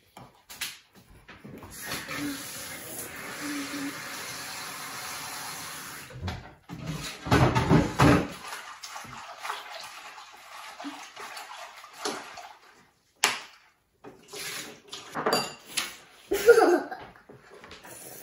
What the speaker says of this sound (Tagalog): Hugasan ko pala itong ano muna. Repolyo, hindi pa ito nahugasan.